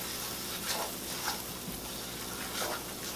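Spices stirred into softened ingredients in a frying pan while making liver pâté, a steady close sizzle with faint scraping stirs recurring every second or so.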